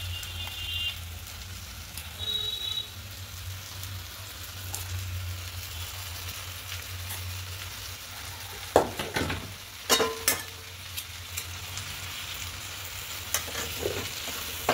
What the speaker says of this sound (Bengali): এভাবে একটু নেড়ে দেবো